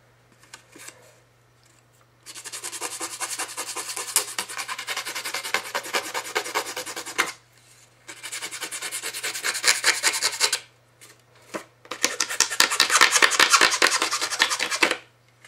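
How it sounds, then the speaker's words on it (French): Edges of a scrapbooking card from the Mataï kit being sanded at a table edge, a close, dry rasping scrape in three sustained bursts separated by short pauses, with no talking. "Alors, on vient juste poncer les bords."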